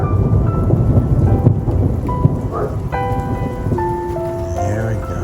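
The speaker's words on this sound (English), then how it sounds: "we've got lightning, we've got thunder, it's raining, not too hard" Steady rain falls during a thunderstorm at a campsite, with a low rumble of distant thunder beneath the patter and a few faint tonal sounds near the end.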